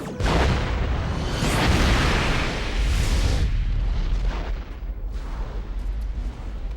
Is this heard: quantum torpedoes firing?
yes